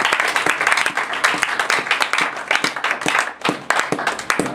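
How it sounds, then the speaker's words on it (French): A church congregation bursts into loud, dense applause, many hands clapping close and fast with sharp individual claps standing out, dipping briefly before surging again. "Donnez une acclamation Seigneur."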